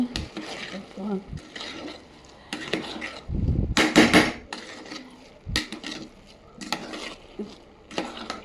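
A spoon scrapes and stirs ghee rice inside a pot in short bursts, with clattering metal contacts and pauses between strokes, close by.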